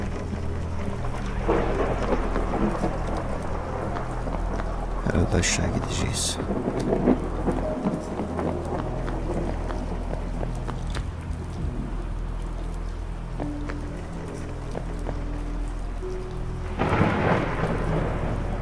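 Thunderstorm with heavy rain in the horror game Forest Asylum 2, a steady downpour with low rolling thunder throughout, and someone speaking briefly over it.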